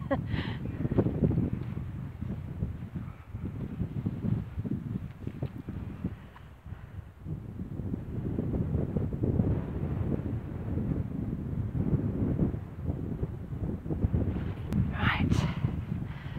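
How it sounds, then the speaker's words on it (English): Wind buffeting the microphone on open moorland around Pule Hill near Marsden, a steady low roar with gusts throughout, while a walker speaks over it. "back into the wind is not as fun."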